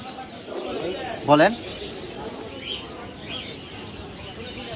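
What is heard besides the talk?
caged birds at a bird market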